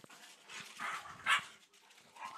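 A dog gives a quiet low growl mixed with brief whiny vocal bursts, close by but faint, with no one speaking.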